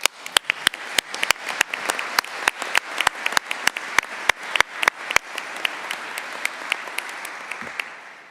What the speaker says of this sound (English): May we please give Anna a clap?